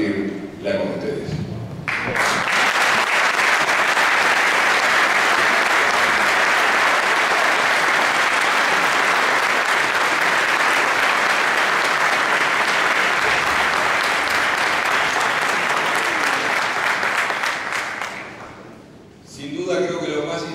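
Large auditorium audience giving a long, loud ovation after a survivor's talk, continuous dense clapping for nearly twenty seconds before it tapers off, with a speaker's voice briefly at the start and again at the end.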